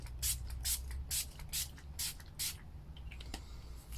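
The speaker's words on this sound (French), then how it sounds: "Je vais mettre du spray fixateur" Several short bursts of Makeup Revolution fix setting spray misted across a face, about six quick hisses in a loose rhythm, close and fairly soft over a low steady background hum.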